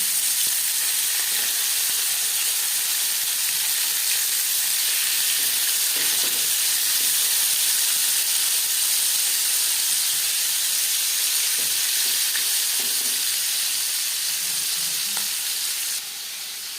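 Marinated fish fries in refined oil for a fish curry, sizzling loudly and steadily in the pan with occasional crackles, until the sound suddenly drops off at the very end.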